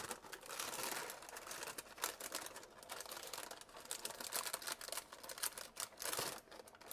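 Paper crumpling and crinkling while sourdough dough is shaped and lowered into a cast iron pot, a busy rustling texture that continues steadily for several seconds close to the microphone.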